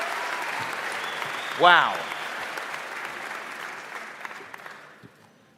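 A crowd at a middle school closing ceremony claps steadily in continuous applause, with a brief vocal exclamation rising above it before the clapping fades away.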